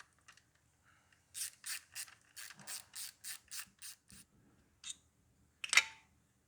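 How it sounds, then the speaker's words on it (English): A ratchet with an 8mm socket loosens the ignition coil bolt on a 2009 Ford Focus: a rapid run of about ten crisp, evenly spaced clicks, then a couple of separate louder clicks, close up and alone. "time to remove the coils, which is just that one bolt on the side, 8mm socket"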